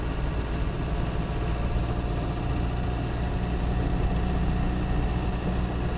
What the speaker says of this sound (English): this is the 200 TDI again. Just a tiny bit louder than the 300 TDI